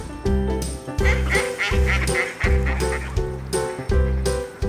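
Ducks in a city park quack loudly and close in a rapid, rhythmic series of harsh honking calls, several in quick succession.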